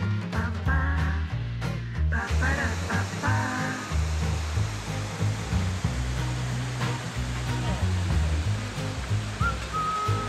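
A waterfall in misty, cold mountains gives a steady broadband rush of falling water, constant and fairly loud, with some brief tonal sounds near the start.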